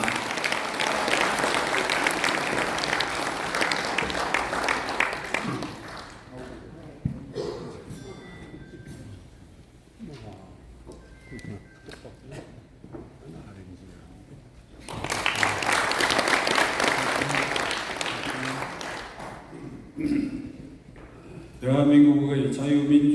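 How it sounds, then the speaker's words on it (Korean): A crowd at an elders' rally for free unification applauds in two sustained bursts, with a quieter stretch of voices between them and a brief tonal sound at the end. "큰 박수를 보내주시기 바랍니다"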